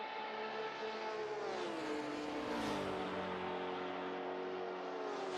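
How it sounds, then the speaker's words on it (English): Jaguar race car at a 6 Heures du Mans endurance race, its engine a loud, sustained roar with an aircraft-like whine that climbs and falls in pitch as it passes, heard alone without voices. "that Jaguar just literally sounds like an aeroplane more than a car"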